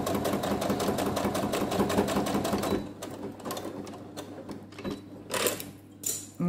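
A sewing machine stitches forward and back to close the opening of a fabric pouch, a rapid, loud mechanical rattle for nearly three seconds, then stops, leaving scattered clicks and handling noises.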